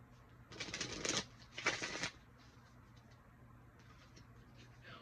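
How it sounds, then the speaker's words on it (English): A deck of tarot cards is shuffled in two quick riffling bursts, crisp and close, then a softer rustle of handling before the room goes quiet. "Let me finish shuffling these cards."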